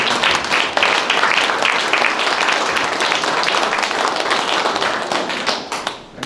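A forum audience claps in sustained, dense applause, loud and close, holding steady for several seconds before tapering off at the end.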